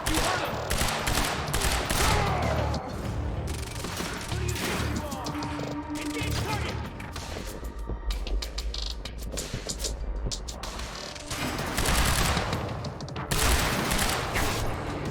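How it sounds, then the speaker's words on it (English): Dense, chaotic Quantum Break firefight with overlapping gunshots, crashes and impacts that keep going for about fifteen seconds and swell in intensity toward the end. "Shoot at a time stop to stack bullets for extra damage"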